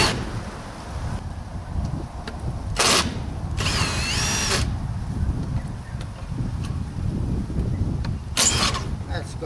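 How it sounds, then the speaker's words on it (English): A power drill whirs in short bursts while removing screws from a gate, one longer with a rising and falling whine, over steady background noise and wind. "Now I can get in there with my drill."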